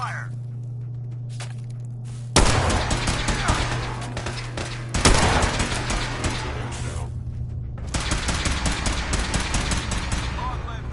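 Fallout 4 combat erupts in bursts of rapid gunfire, dense volleys starting abruptly and recurring in three loud waves, with a low steady hum underneath and a brief voice near the start.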